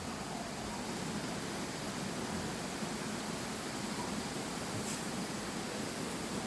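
Strong water rushes steadily through the morning at Ogersland campsite in Padang Rengas, Perak, a constant, dense, even roar with no breaks.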